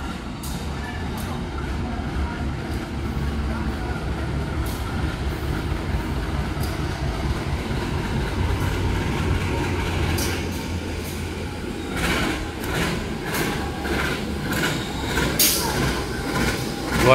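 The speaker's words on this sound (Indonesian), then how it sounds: "jalur 7-nya kereta api Serayu dari Purwokerto" The Serayu passenger train from Purwokerto runs along track 7 at a busy Jakarta station, a steady rolling rumble with periodic clacks of wheels over rail joints, moderately loud, with voices in the background.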